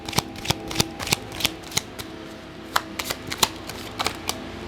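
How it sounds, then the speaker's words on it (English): Crisp, rapid card snaps and flicks as a deck is shuffled and cards are drawn for a reading, a dozen or so sharp clicks in an uneven rhythm, close and alone with no voices. "We're just going to take 4 cards"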